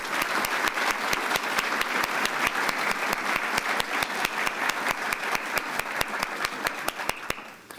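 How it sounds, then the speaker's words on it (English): A room full of people at a county address gives sustained, dense applause with crisp individual claps, steady throughout and tapering off at the end. "Could we have a round of applause?"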